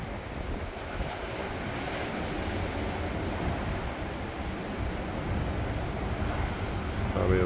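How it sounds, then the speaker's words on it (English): Atlantic Ocean surf ahead of a hurricane heading for Florida rolls in as a constant heavy roar, mixed with gusting wind buffeting the microphone. "This is the Atlantic."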